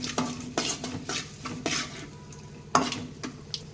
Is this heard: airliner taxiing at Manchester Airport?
no